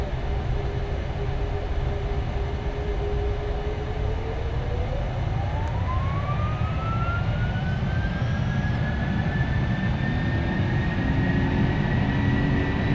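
Boeing 747-400 engines in the PMDG FSX flight simulator spool up with a steady rising whine climbing in pitch over a loud continuous roar, sustained and close throughout with no talking.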